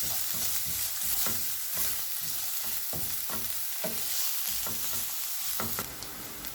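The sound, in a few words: chopped carrot frying in cooking oil in pan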